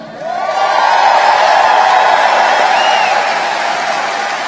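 A big rally crowd in Wheeling, West Virginia applauds and cheers in a loud, steady roar that swells in the first half-second and holds, with a few whistles rising above the clapping.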